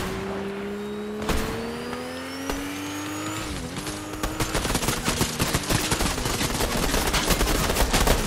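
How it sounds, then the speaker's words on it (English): Gunfire in the video game Fortnite rattles in rapid, dense bursts that grow busier toward the end, layered over a steady engine drone from a game vehicle, with no talk. "Someone's shooting right here."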